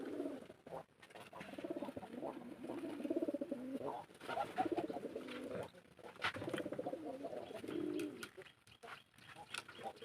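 Domestic pigeons coo repeatedly in a loft in winter, a close, continuous chorus of soft throaty calls with occasional rustling and faint movement noises.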